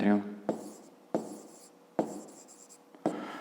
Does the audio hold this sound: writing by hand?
yes